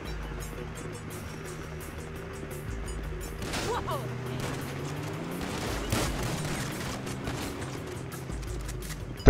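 Shotgun fire in a GTA Online deathmatch: a few sharp blasts with rolling echoes around 3.5 and 6 seconds, set against a dense bed of game noise and engine rumble, with no voice over it.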